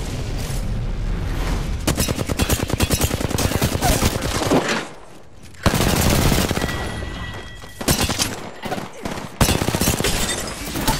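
Rapid automatic weapons fire in the battle royale shooter Apex Legends, loud close bursts of machine-gun shots broken by short pauses, with occasional booms mixed in.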